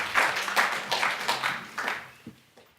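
Audience applauding presenters at a university English symposium three-minute presentation competition, a burst of fairly close clapping with uneven, pulsing claps that thins out and fades toward the end.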